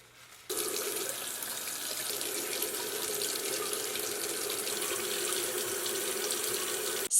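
A faucet suddenly opens into a steady, close hiss of running water as makeup brushes are rinsed in a sink, continuing evenly before stopping with a short bump at the end.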